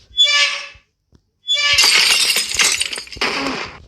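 In the video game Dark Riddle, window glass shatters loudly with a bright crash and tinkling shards, followed by a second breaking burst, preceded by a short high squeaky tone.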